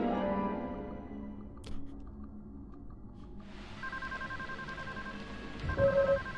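A payphone in the video game Deadly Premonition, steady electronic ringing or dial tones over a quiet rain-like ambience, with two pitched tone layers arriving partway through.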